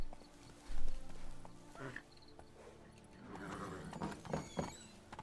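Hooves of Geralt's horse Roach clip-clop in The Witcher 3 game world, a few soft hoofbeats with a snort or whinny amid ambient game sounds, fairly faint and mid-distance.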